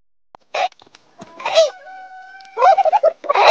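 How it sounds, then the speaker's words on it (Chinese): A big free-range rooster crows once, loud and close, a drawn-out call with a clear tonal middle, after a few short clucking sounds, with no talk over it. "给你们看看我们这大公鸡"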